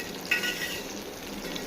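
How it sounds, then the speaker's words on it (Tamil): Food frying in hot oil in a home kitchen, a steady faint sizzle and crackle with a few sharper pops, close and without talk. "சரி பொரிக்கிறதா வேடிக்கை பார்க்கலாம்."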